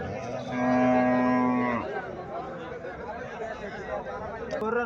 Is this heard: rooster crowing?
no